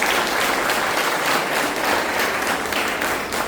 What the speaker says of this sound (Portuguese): Pode aplaudir o Espírito Santo nessa noite.